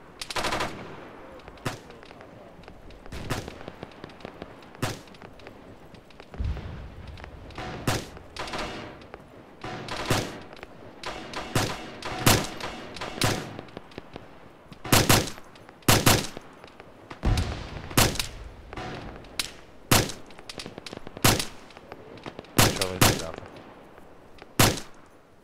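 Gunfire in an Arma video game firefight, sharp, loud bursts and single shots cracking out irregularly over a quieter background, some rapid automatic strings clustered together, with occasional faint voices between volleys.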